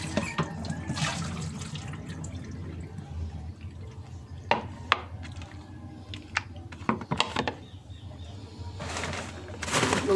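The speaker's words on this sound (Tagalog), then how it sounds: "Itong karni naman ang hugasan natin" Raw meat is rinsed under running water in a sink, with close trickling, splashing and a few clunks, while birds call faintly in the background.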